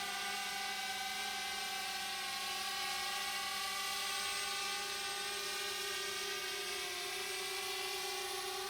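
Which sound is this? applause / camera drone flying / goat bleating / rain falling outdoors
camera drone flying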